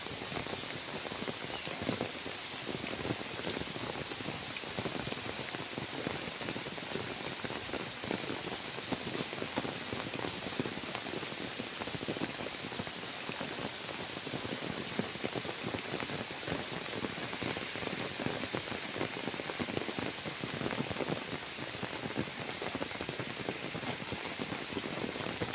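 Heavy rain pours down in Deesa, Banaskantha, a dense steady hiss of drops pattering on surfaces that holds at an even level throughout, with no voices.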